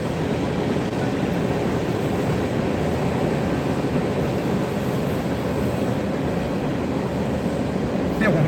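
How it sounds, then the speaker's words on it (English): A train rumbles past continuously at moderate distance for the whole stretch, a steady low, broad roar that holds even and unbroken, with no clear voices over it. "Here comes a train."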